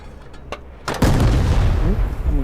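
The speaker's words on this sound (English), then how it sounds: "And we're getting artillery." Artillery fire in the WW2 tank game Panzer Elite: a couple of faint thumps, then a loud heavy blast around the one-second mark with a rumbling tail that rolls on to the end.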